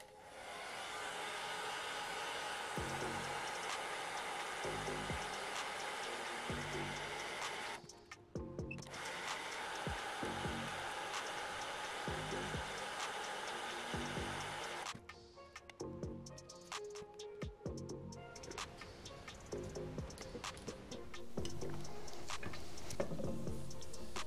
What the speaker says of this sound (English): I'm going to just heat this up with a heat gun kind of evenly